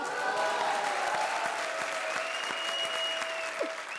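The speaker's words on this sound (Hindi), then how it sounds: "ठोको ताली" A studio audience claps steadily on a television comedy show, a dense even wash of applause with a tonal sound and faint voices running beneath it.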